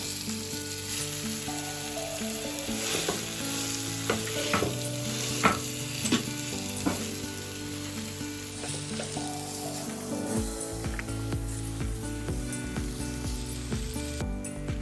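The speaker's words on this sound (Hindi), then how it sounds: "अब ये मसाला भून चुका है, इसमें ये आलू मिला देते हैं।" Potatoes are stirred into sizzling masala for stuffed capsicum, with a steady fry hiss under repeated scraping and clinking strokes of a spoon against the pan, close and moderately loud.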